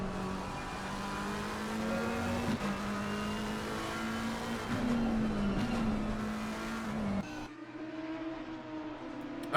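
A McLaren 720 GT race car circles Imola GP in a racing sim, its engine holding a steady onboard drone with brief pitch shifts as gears change, ending with a sharp downshift.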